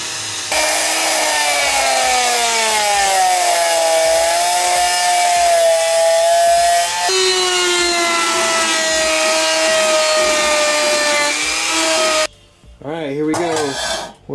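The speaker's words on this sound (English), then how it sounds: "So now I'm going to use some compound and my rotary tool" A handheld rotary tool spinning with polishing compound on an old ashtray, giving a loud, steady high whine whose pitch drifts as pressure changes, then cutting out near the end before a brief different sound.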